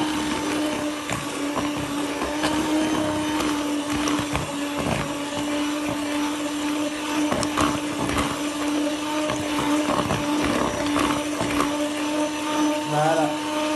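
An electric mixer drones steadily while beating génoise sponge cake batter, a continuous whirring motor hum that runs loud and unbroken, with faint clatter from the beaters against the bowl.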